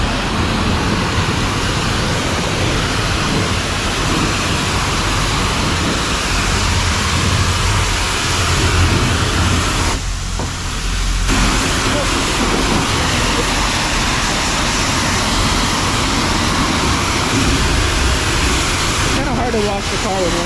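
Steady, loud rushing spray of a car wash soaking a 1999 Ford Mustang GT, a broad hiss that holds nearly unchanged throughout and drops out briefly once partway through.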